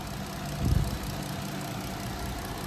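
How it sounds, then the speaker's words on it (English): A Chrysler 3.6 Pentastar V6 idles smoothly and steadily after a lifter replacement, a low even hum with a brief soft thump near the start. "That is how a Pentastar supposed to sound. No trembling, feels good,"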